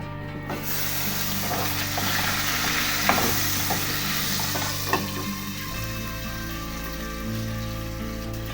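Tea boils in a pot on the stove, a dense steady bubbling and sizzling hiss with a couple of small clinks, close and fairly loud; the texture shifts near the end as the heat is turned down.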